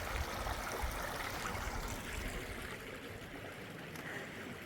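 Garden water feature running outdoors in cold, snowy weather, a steady broadband rush and trickle of flowing water heard close and continuous with no talk.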